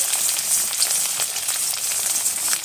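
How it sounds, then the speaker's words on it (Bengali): Vegetables such as cauliflower fry in hot oil in a wok, with a dense, continuous sizzle and crackle that holds close and loud throughout with no voices. "এবার আমি একে একে সমস্ত সবজিগুলো তেলে ছেড়ে ভেজে নেব"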